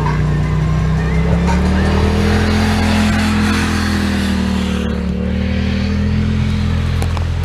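Dirt bikes roar along a trail, their engines droning loudly and steadily close by with a slowly shifting pitch, one machine passing through the whole stretch without a break.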